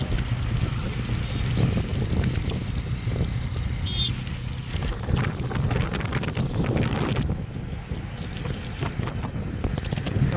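A boat crossing the Ganges river gives a steady, close rumble. Strong wind buffets the microphone the whole time, and no one speaks.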